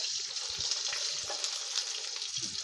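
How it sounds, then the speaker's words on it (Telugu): Hot tempering of onions in oil is poured into boiling gongura (sorrel leaf) dal, giving a bright, continuous sizzle with a few soft low bubbling thumps, close and unaccompanied by speech. "తీసుకుపోయి ఉడుకుతున్న మన గోంగూర పప్పులో వేసేసుకున్నాం."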